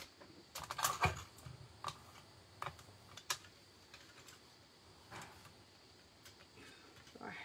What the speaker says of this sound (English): I hate using this trimmer to do this bit